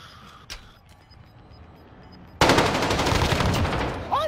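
Rapid automatic gunfire from a weapon in a video game bursts in loudly after a quieter stretch of faint game sounds and keeps firing in a dense, continuous rattle to the end.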